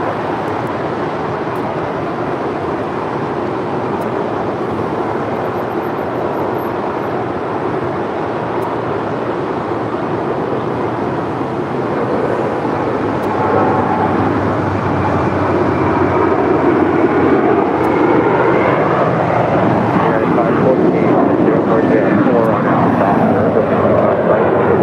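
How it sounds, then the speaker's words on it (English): A JetBlue Airbus A321 bound for Fort Lauderdale rolls down runway 25 right at LAX, its loud, steady jet roar building and swelling toward the end with no voices over it. "JetBlue Airways flight 1800 heading to Fort Lauderdale, Florida. It's an A321, now rolling down 25 right"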